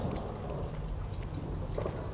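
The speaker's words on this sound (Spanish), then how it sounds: "Está lloviendo." Steady, faint video-game rain patters continuously with a low rumble beneath it, no voices.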